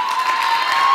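Crowd applause and cheering from an audience after an inspirational talk, a steady loud wash of clapping throughout the short moment.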